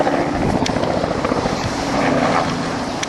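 A helicopter drones steadily overhead, its rotor chop mixed with broadband wind-like rush, loud and continuous throughout.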